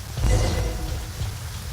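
Rain in the video game Genshin Impact, a steady dense wash of falling rain with a deep low rumble like distant thunder, continuous and fairly loud, with no talk.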